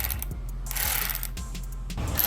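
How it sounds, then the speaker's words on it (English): A Milwaukee power ratchet working on a salvage crashed Suzuki GSX-R 750 motorcycle, a close mechanical whir with grinding clicks that cut in and out over a couple of seconds. "Alright, Milwaukee ratchet just died."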